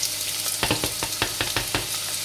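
Chopped onion hits hot vegetable oil in a pan and sizzles loudly, with a steady frying hiss and a series of sharp crackling bursts as the pieces settle.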